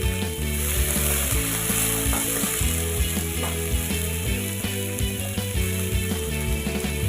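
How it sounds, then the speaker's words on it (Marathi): Onions, green chillies and chopped tomatoes fry in a pan with oil, a steady close sizzle broken by repeated scraping knocks of a spatula stirring against the metal, with no talking. "कांद्यासोबतच हिरव्या मिरचीचे तुकडे तळसून घ्यायचे आहेत"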